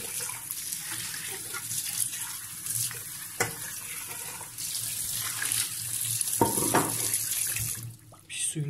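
Thick steel wire scrubs a burnt pot under running water, producing a close, hissing flow with intermittent scraping and clunking of metal.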